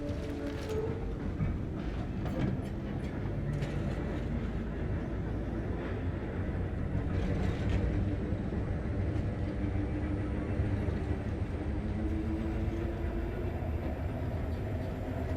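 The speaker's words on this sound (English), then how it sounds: "Another achievement, power up the tram." A tram in Cronos: The New Dawn powering up and running, a loud continuous mechanical rumble with grinding, rattling rail noise and occasional metallic clanks.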